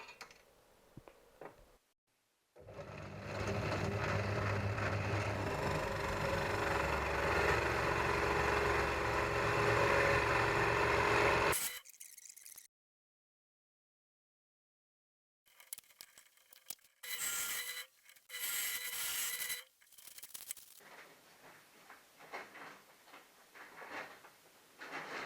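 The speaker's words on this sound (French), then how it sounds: "Le carré de palette est désormais percé." A power drill bores through a square of wooden pallet board, a steady whirring grind lasting several seconds, then short intermittent bursts of drilling after a pause, with quiet gaps between.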